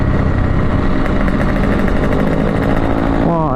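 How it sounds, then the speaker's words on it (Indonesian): Jet X25 motorcycle engine idling in a video game, a loud, steady, continuous engine rumble that holds without a break, with a brief rising tone near the end. "Wah, ada Jet X25 motor impian."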